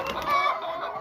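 Laying hens clucking inside a poultry house on a Jamaican layer farm, several close overlapping clucks and a drawn-out squawk with no talk.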